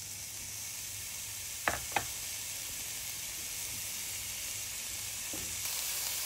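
Onion fries in oil in a pan with a steady, even sizzle throughout, and a couple of brief clicks near the start.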